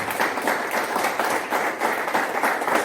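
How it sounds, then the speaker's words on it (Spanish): A church congregation claps together during a Spanish-language sermon, a steady dense wash of applause filling the room without pause. "Yo quiero que le dé un fuerte aplauso al Señor en esta mañana."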